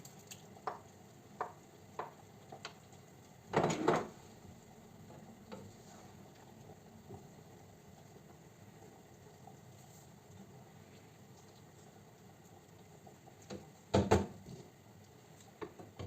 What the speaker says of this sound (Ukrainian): Поки тушкується наша заправка для борщу